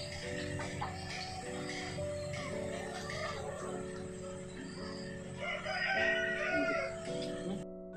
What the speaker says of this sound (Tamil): இது வந்து கருப்பு கோழி கடகநாத்து.